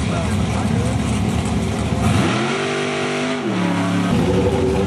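Super Gas class drag cars at an NHRA Division 6 national event at Portland International Raceway, engines roaring loudly and continuously, with a harmonic rev sweep as one car launches past, over crowd and track noise.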